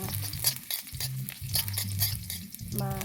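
Garlic and onion sautéing in a frying pan, steady sizzling broken by repeated scraping stirs of a utensil in a rhythmic pattern, close and moderately loud.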